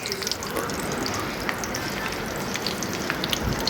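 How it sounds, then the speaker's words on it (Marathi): Spinach bhaji fritters fry in hot oil in a pan on a gas stove, giving a dense, steady sizzle close by, sprinkled with small pops and crackles. "आणि आता मी त्याला दोन्ही बाजूने तळून घेणार आहे व्यवस्थित"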